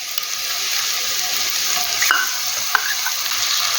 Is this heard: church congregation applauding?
no